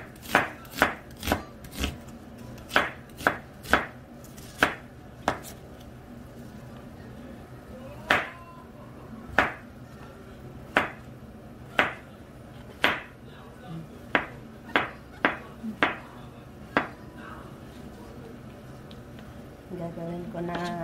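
A knife chops through onions on a cutting board, cutting them into thin slices with sharp, distinct knocks that come in quick runs, then slow to a spaced, uneven rhythm, with a faint scrape near the end.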